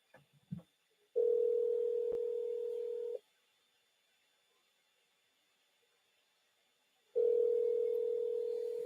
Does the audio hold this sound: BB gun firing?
no